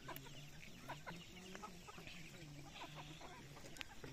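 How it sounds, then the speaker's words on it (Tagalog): Soft, repeated clucking from a free-range native laying hen nearby in the rural Philippines, low and continuous with a few sharper calls mixed in, over quiet outdoor background. "ito yung darag ko ng itlog na yan"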